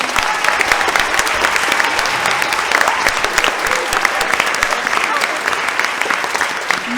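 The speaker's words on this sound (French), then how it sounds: "on peut les applaudir bien fort pour ça" A theatre audience claps loudly and steadily at a campus play, dense applause that carries on without a break for several seconds.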